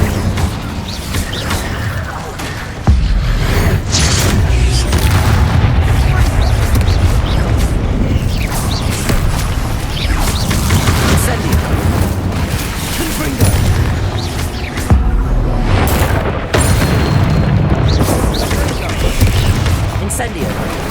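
Incendio fire spells cast repeatedly during combat in the Hogwarts Legacy video game, heavy booming blasts and crackling bursts layered throughout a dense, loud battle mix with other spell impacts.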